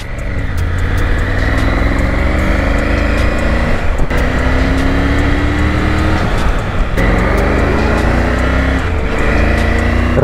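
A Triumph Tiger 900 adventure motorcycle in road mode cruises along a quiet mountain road near Manali and Solang Valley, its engine droning steadily with rising gear pulls and constant wind rush, loud and close throughout.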